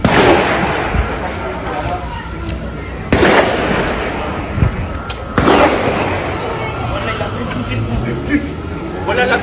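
Two sharp, loud gunshot-like bangs burst out a couple of seconds apart over a noisy, crackling background while a person talks throughout.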